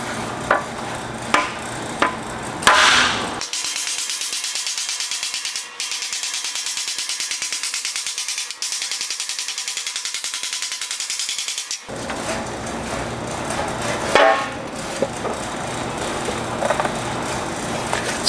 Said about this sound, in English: let's just go ahead and put some hammer marks in that